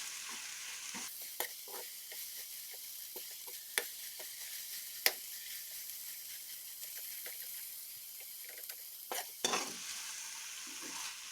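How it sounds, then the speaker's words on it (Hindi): Kashmiri sochal fries in a pan with a steady bright sizzle, broken by a few sharp scrapes and clicks of a spoon stirring, close and alone with no voices. "अब हम इसको थोड़ी देर के लिए फ्राई करेंगे ऐसे ही।"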